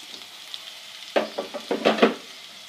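Garlic ginger paste and cumin frying in ghee for bhindi piyaz masala, a soft low sizzle that is broken by a burst of close scraping stirs in the pan partway through, no voices.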